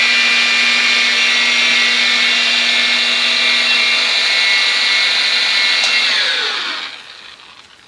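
A PT6 polisher jeweling car paint ahead of a ceramic coating whines loud and steady at high pitch across two passes, then spins down and fades near the end.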